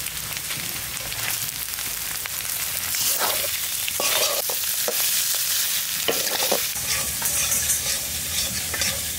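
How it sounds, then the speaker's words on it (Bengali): A fried spice paste of onion, ginger and green chili cooks with chicken in a pan. The loud, dense sizzle runs throughout, with brisk stirring and scraping strokes close up and no voices. "এই ভাজা মশলাটা এবার মাংসের মধ্যে দিয়ে দেবো।"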